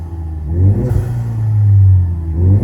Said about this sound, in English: That blow-off valve is nuts.